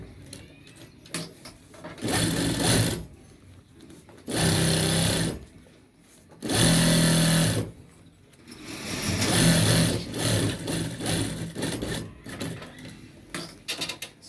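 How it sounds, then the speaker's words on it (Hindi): A sewing machine stitching along the edge of a men's shirt collar, running in several bursts of rapid rattling stitches separated by pauses, close and fairly loud with quiet gaps between runs. "यहाँ से आप इसकी बिल्कुल किनारे के ऊपर नीचे वाला कपड़ा आप खींचकर सिलाई लगाते जाएं"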